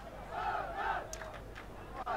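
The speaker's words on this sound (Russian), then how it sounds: "Болельщики ликуют, поддерживают свою сборную." A large crowd of fans at a tank biathlon competition cheers and roars for the Azerbaijan team, a dense, sustained wall of voices with a few higher shouts rising above it, heard from some distance.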